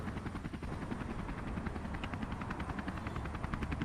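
A news helicopter flies overhead, its rotor making a steady rapid chopping throb beneath a broad airy roar, moderately distant and continuous throughout.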